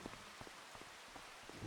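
Rain falls steadily in Farming Simulator 25, a faint, even hiss of drizzle with scattered soft droplet taps spread across the whole stretch and no voices.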